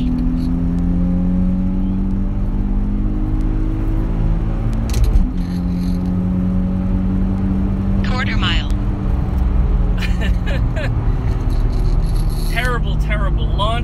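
A 1968 VW Fastback accelerates hard on a wet quarter-mile run, its air-cooled engine droning loud and close, climbing through the gears with a brief dip at a shift and repeatedly bouncing off the rev limiter, with wind noise throughout.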